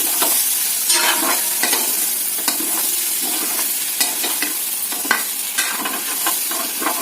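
A spoon stirs ridge gourd and egg curry frying in a pan, with repeated scraping strokes over a steady close sizzle and no voices.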